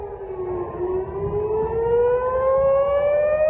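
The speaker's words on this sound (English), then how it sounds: "These are the sirens over Jerusalem and the explosions in the sky there over Israel" Air raid sirens wail over Jerusalem during a night attack on Israel, a loud sustained rising tone with clear overtones, steady and uninterrupted without talk.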